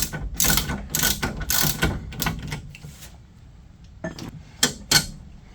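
Ratchet clicking in several short bursts while a pinch bolt is undone at the bottom of a VW Polo Mk2 (86c) front hub during wheel bearing work, close and fairly loud, with pauses and a couple of sharp knocks near the end.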